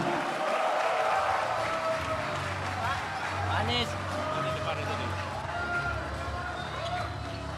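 An audience claps and cheers to welcome Anies Baswedan at a public event in Medan. The crowd noise is continuous and busy, and loud voices talk over it throughout.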